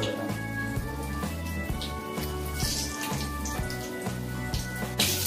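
Bengali egg chops frying in hot oil on a high gas flame, a continuous close crackle with small spatters and a faint rhythmic knocking.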